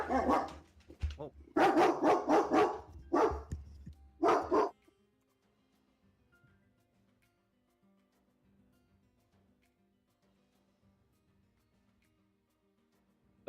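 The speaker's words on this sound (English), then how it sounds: "Dog bark, it's super effective." A dog barking several times in quick, loud bursts close by over the first few seconds, followed by near silence.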